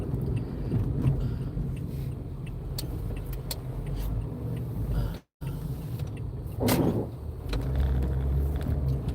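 A car rolls along and pulls into a driveway toward a Cold Stone ice cream shop, its engine a low steady rumble from inside the cabin, broken by a brief dropout and a scraping bump partway through.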